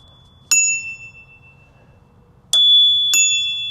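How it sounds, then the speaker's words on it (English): Bicycle bell on a Magicycle Deer 20 e-bike rung three times, a single bright ding ringing out, then after a pause two quick dings close together, clear and near with long shimmering decay. "It does come with a bell."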